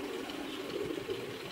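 Racing pigeons at a loft give soft, low cooing, faint and continuous over a brief stretch, with no one talking.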